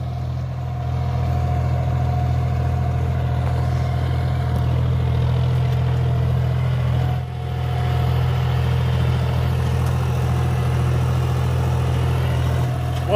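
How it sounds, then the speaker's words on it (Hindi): A John Deere 5050 D tractor engine pulling an 8x8 disc harrow in third gear drones steadily at low pitch, a constant rumbling hum that stays loud and close throughout, with no talking. "बहुत बढ़िया चल रहा है ट्रैक्टर"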